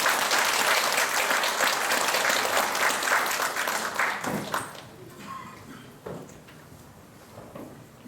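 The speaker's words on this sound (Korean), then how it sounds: "박수로 환영합니다." An audience at a Vincentian training session in Jeju welcomes a visiting priest with sustained clapping that fades after a few seconds, followed by a few scattered claps and light knocks in the room.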